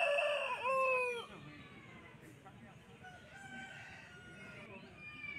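A rooster crows loudly and close at a village poultry market, one long cock-a-doodle-doo in the first second, followed by softer clucks and distant crowing over a busy crowd murmur.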